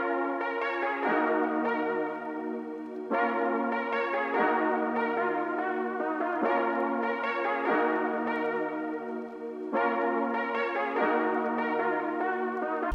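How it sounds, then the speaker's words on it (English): A bell-like Analog Lab synth pad with lows cut and highs boosted, repeating sustained chords that swell and shift every couple of seconds in a steady looping pattern, moderately loud and alone. "Then I added this another synth pad sound from Analog Lab"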